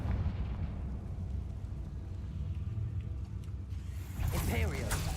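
A Confringo blasting spell detonates in Hogwarts Legacy, a loud, deep rumbling blast with heavy low-end roar, followed by a rising burst of crackling debris near the end.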